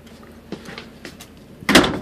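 An interior door in a 2006 Fleetwood Fiesta 29J motor home, with a few light knocks and rattles before one firm, close thud as it shuts near the end, alone with no talking.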